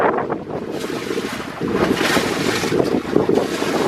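Strong wind buffets the microphone aboard a small houseboat crossing Lake Albert, a continuous loud roar mixed with water and hull noise.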